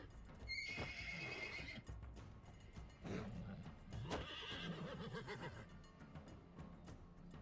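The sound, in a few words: horse neighing in video game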